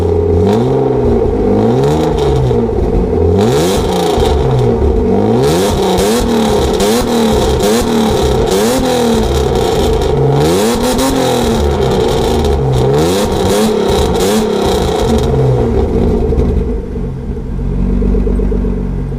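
A freshly rebuilt BMW M50B25 straight-six revving loudly and close up, repeated rising and falling blips over a rough idle, continuous and alone before settling near the end.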